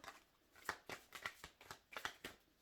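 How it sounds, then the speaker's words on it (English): Tarot cards being shuffled in quick riffling bursts, several brisk flutters in a row, close and fairly quiet, no voices. "See a couple more shuffles here."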